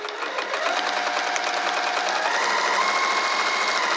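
Sewing machine stitching a cork wrist pouch, running steadily and close up with a continuous buzzing whir for the whole stretch, no talk.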